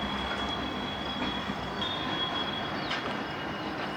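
Freight train cars roll slowly over a rail yard hump in Nebraska, a steady metallic rumble under a sustained high wheel squeal, with a few brief extra screeches from the wheels, moderately distant and with no talk.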